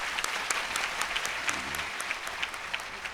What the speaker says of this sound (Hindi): तालियां बजाकर स्वागत करें।